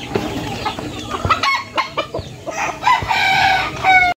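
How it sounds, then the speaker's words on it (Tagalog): Chickens and chicks cluck and chatter at a small backyard poultry pen outside a house, with overlapping busy calls and a few higher peeps, fairly close and continuous, without speech. "Ito nga pala ang ating mga sisiw."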